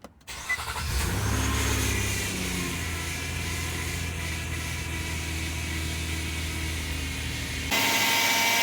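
A 2009 Nissan Murano SL AWD engine cranks briefly and catches, then settles into a steady, loud idle that runs for several seconds, close by and with no talk over it.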